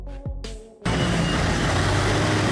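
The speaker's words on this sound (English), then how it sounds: "Tractor. Tractor." A tractor engine roars loud and steady after a short quieter lead-in, running continuously close by with no voices.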